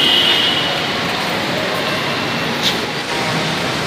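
A Metro Manila MRT3 train rumbles and rattles steadily for a few seconds at close range, a continuous broadband roar with a faint high squeal, no talk.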